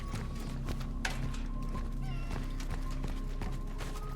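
A cat meows in the horror video game Cronos: The New Dawn, a brief, modest cry rising over steady, murky game ambience and low droning background noise.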